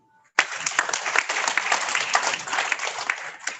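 Applause for a Senator at a formal soil science institute meeting held over Zoom, a dense burst of clapping that starts abruptly and carries on steadily, fairly close and loud.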